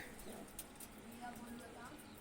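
Yellow-eyed pigeon giving soft low coos, faint and close, with a few light taps and rustles around it.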